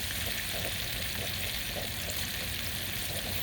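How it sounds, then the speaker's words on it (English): Fish deep frying in hot oil gives a loud, steady, dense sizzle and crackle that runs unbroken throughout, with no talking. "deep fry."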